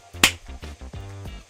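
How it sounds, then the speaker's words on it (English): A single sharp hand clap close to the microphone during a mic test, one crisp snap followed by voiced, hummed sounds from the person nearby. "Little clap test."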